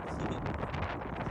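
Wind blowing hard outdoors beside a house being demolished, a low, steady rumbling buffet against the microphone, fairly faint and with no voices.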